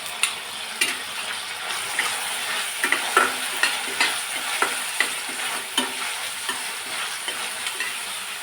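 Chopped tomatoes fry in a pan for noodles, a steady soft sizzle broken by regular scraping knocks of a spoon stirring, about two per second, close and without voices.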